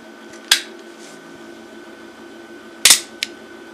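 A custom 13-inch switchblade with a bayonet blade, nickel silver bolsters and dark cocobolo handle clicks shut with a sharp snap, then fires open with a louder metallic crack followed by a small rattle.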